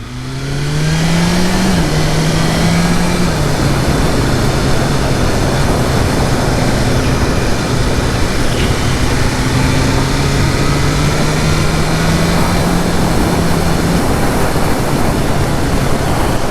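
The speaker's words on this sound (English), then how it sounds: "We're in 4th gear now." A BMW M1000R motorcycle rides in 4th gear, its loud engine note steady and droning close by, with a brief pitch rise early on and wind rush throughout.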